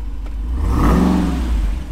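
Brand-new Jeep Wrangler 392 Hemi V8 on factory tires revving hard while stuck in mud with no traction, a loud close engine roar swelling and holding briefly.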